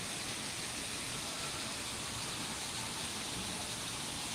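Dense, even rain noise at Disney's Animal Kingdom, a steady broadband wash at moderate volume with no voices or breaks.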